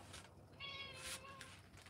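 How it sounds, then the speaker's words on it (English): A cat meows at a painter's live session, a clear tonal call with a faint earlier mew, close by against a quiet indoor background with no talking. "And cat says hello."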